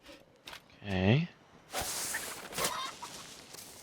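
Chickens clucking in the survival video game Len's Island, a few short close clucks and squawks in quick bursts, with faint movement noise between them.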